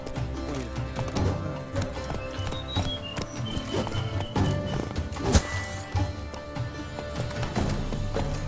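Horse hooves in The Witcher 3: Wild Hunt, Blood and Wine, clip-clopping in a steady trotting rhythm, close and clear over a sustained tonal musical background, with no one talking.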